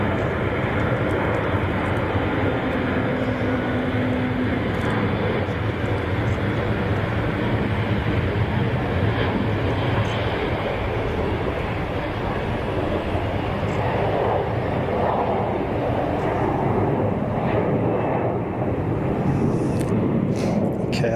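A KLM airliner takes off from Zurich Kloten Airport, its broad, steady jet roar filling the air and holding loud and constant throughout.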